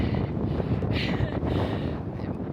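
Wind blows across the sand dunes of Great Sand Dunes National Park, a constant loud buffeting rush battering the microphone, with brief gusty surges in the middle.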